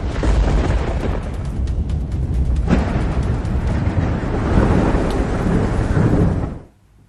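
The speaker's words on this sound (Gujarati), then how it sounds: "ભારે પવન અને વીજળીના કડાકા સાથે મેઘ તાંડવના દ્રશ્યો સામે આવ્યા" Heavy monsoon rainstorm with strong wind in Patan, Gujarat, giving a loud continuous roar of rain and gusts, with rumbling thunder and a sharper crack near the middle, cutting off at the end.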